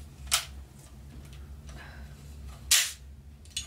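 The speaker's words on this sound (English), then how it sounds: "The hidden blade activates when you push this button." A spring-loaded Assassin's Creed Valhalla replica hidden blade snaps out with two sharp, close mechanical clacks about two seconds apart, plus a faint click at the close, over a quiet room hum.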